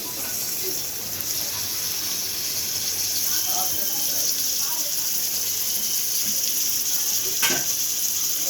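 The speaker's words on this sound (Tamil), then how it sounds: "இப்போ எறா போட்டு நல்லா வதக்கிக்கோங்க" Prawns sautéing in a pan with tomato and rock salt for a coconut milk prawn fry, a loud continuous hiss of frying with faint stirring scrapes and one sharper knock near the end.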